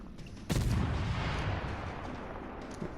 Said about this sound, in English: shooting our gun is going to alert them to our presence